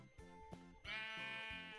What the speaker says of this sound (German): Ich glaube, das Schaf hier gehört hier nicht hin.